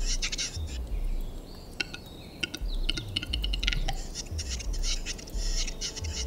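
A heathercock (black grouse) calls in a wild Bulgarian landscape, a run of repeated bubbling, chirping notes over low rumbling background noise, steady across the whole stretch.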